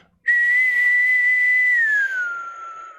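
A human voice imitates a weird whistling noise: one sustained, clear whistle-like tone held for about two seconds, then sliding down slightly in pitch and fading, close and loud.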